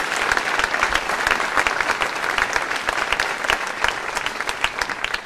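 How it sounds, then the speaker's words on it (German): A church congregation applauds at the start of a Benedict feast-day service, a dense, steady wash of many hands clapping that carries on throughout at an even level. "wir geben jetzt am Anfang einen Applaus"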